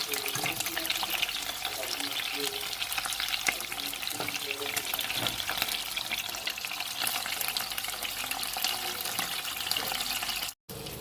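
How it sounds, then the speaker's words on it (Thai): Fermented fish (pla som) fries in oil with a loud, continuous close sizzle and crackle, broken once by a brief dropout near the end, with no voices. "ทอดปลาส้มนี่ต้องใจเย็นๆนะ"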